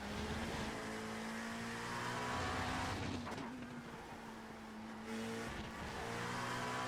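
A race car engine revs in neutral during the 12 Hours of Sebring endurance race in iRacing, a loud sustained drone with rising and falling pitch over a continuous engine roar.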